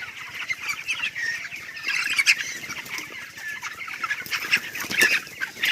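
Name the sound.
chickens clucking while being chased on a poultry farm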